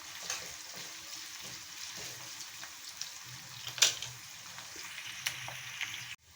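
Onions frying for biryani give a steady, even sizzle with faint crackles throughout, moderately quiet and close, with no talk.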